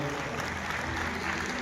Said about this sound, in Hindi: जोरदार तालियों से अभिवादन।